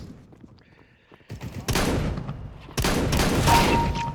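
Counter-Strike: Global Offensive gunfire erupts in two loud sustained volleys after a quieter stretch, close and dense with rapid shots running together.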